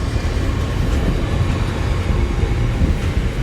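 Locomotive 70001 passing at Leamington Spa on the main line, a loud, steady rumble of engine and wheels close by with no talk.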